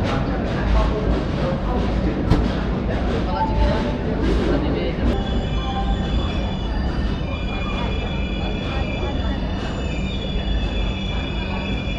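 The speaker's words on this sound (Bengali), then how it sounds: "নির্ধারিত সময় থেকে 2 ঘন্টা দেরিতে অবশেষে ট্রেন এসে পৌঁছালো খড়গপুর।" Dhauli Express pulling into Kharagpur station two hours late, a steady rumble of carriages and wheels on rails with sharp metallic squeals rising near the end, loud and continuous with faint voices in the background.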